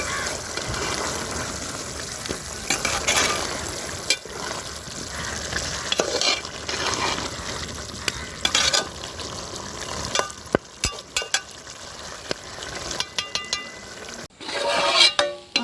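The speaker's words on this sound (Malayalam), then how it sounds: "അപ്പം നല്ലോണം തിളയ്ക്കുന്ന സൗണ്ടൊക്കെ ഇങ്ങനെ കേൾക്കുന്നുണ്ട്" Beef thoran masala boils and fries in a pan with a steady hissing sizzle and bubbling, while a spoon stirs and scrapes through it in occasional clinks and rustles.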